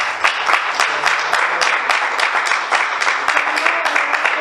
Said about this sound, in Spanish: Dale un aplauso a Dios Todopoderoso.